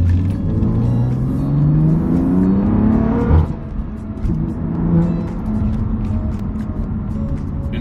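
A BMW F80 M3 with a manual gearbox accelerating hard, its engine note climbing steadily under load, then a sharp gear change and a second rising pull, close and loud.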